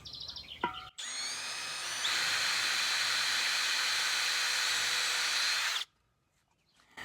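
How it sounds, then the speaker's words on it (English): A power drill bores a pilot hole into an aluminum deck railing post, whining steadily and loudly for about five seconds alone and then stopping abruptly, preceded by brief clicks. "So I'm going to pre-drill"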